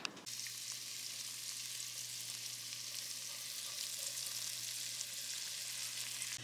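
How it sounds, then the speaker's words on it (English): Butter with minced shallot sizzles steadily in a pot, a close, even frying hiss that holds at a constant level with no talking. "I have about 3 tablespoons of butter melting on in the pot"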